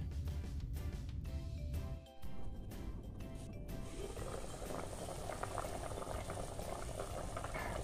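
Pork sinigang with gabi simmers in a covered pot, giving a steady bubbling boil with a brief clatter near the start, continuing evenly and close.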